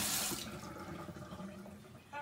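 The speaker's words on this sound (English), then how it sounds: "I'm gonna wash my hands because I got some soup on them" A kitchen tap runs steadily as hands are rinsed under it, quiet and close, with the flow fading slightly after a stronger opening splash.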